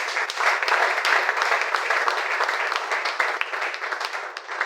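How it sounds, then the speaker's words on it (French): A congregation at a French-language evangelical church service claps and cheers for the Lord, a dense steady wash of applause lasting the whole stretch without pause. "Est-ce qu'on va acclamer pour le Seigneur?"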